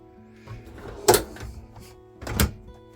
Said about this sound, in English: You can remove the drawers, so that's that easy to remove the drawers.